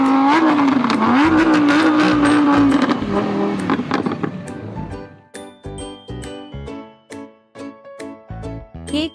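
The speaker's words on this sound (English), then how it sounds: "The red car goes vroom, vroom." A car engine revs loudly for a few seconds with a rising whine, then gives way to a string of rhythmic clinking, tinkling hits that carry on alone to the end.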